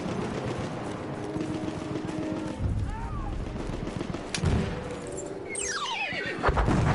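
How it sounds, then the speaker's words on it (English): A horse whinnies in a shrill, wavering cry amid continuous gunfire and booming noise in Battlefield 1, with a rising and falling neigh near the end. "odd horse noise there, wasn't it?"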